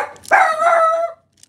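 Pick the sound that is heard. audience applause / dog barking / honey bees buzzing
dog barking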